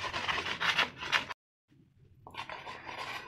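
Cooled balls of cooked dough rubbed over a fine hand grater: rhythmic raspy scraping strokes, a brief silence, then softer steady grating resumes close by.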